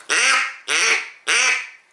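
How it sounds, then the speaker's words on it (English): A double-reed duck call blown in three loud, raspy quacks, each sharp at the start and trailing off, evenly spaced with short gaps and no talking. "You'll love that duck call."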